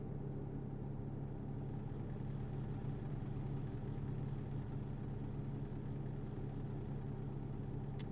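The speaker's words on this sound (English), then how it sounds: "you can still hear the tractor and everything going on in the background" A truck engine idles steadily in Euro Truck Simulator 2 on TruckersMP, a faint, continuous low rumble that holds constant throughout with no talk.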